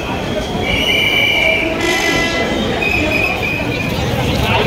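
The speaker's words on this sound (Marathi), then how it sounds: "त्याच्यामुळे ट्रेन इकडे काही थांबलेली नाही आहे" A train rumbles past steadily through a Mumbai station without stopping, with wheels squealing high and shrill at intervals and a constant broadband roar throughout, loud and close.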